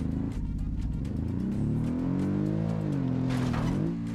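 A BMW engine in the BeamNG driving game strains up a steep hill climb, its rising, wavering harmonic whine holding loud and close before climbing higher near the end.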